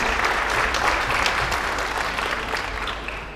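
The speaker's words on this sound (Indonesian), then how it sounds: "Boleh tepuk tangan buat beliau." A festival crowd at Horas Fest 2023 applauds Professor Renald Kasali being introduced on stage, a loud, dense, continuous clapping that holds steady and eases slightly toward the end.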